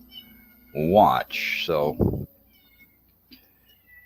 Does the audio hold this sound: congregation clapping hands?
no